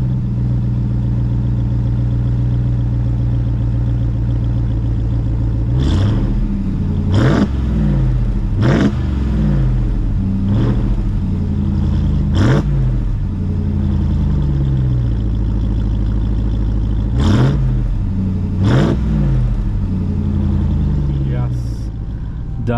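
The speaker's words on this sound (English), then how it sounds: "let's go ahead and turn on this beast of a motor" A 2021 Ram 1500 TRX's supercharged 6.2-litre V8 idles with a heavy rumble, blipped through several sharp throttle revs that rise and fall, loud and close.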